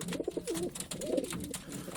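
Male pigeons in a loft cooing, overlapping low throaty coos in short rolling phrases, close and steady with no talk.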